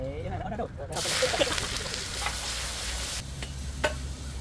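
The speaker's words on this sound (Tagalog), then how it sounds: "I-mix na natin to. Bawang at saka sibuyas." Garlic and onions are stirred in a hot pan, giving a bright sizzle with scraping stir strokes and a few soft knocks, heard close.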